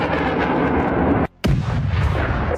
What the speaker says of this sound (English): HIMARS fired its missiles.